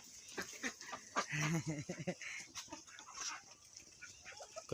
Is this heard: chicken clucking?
yes